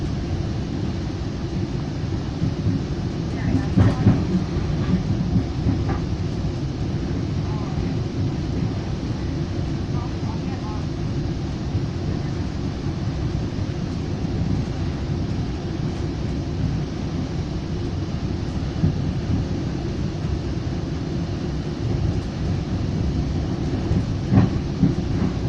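A Northstar commuter train rolls along the rails into Big Lake, a steady low rumble of the car in motion with faint intermittent clicks and rattles throughout, heard from inside without talk.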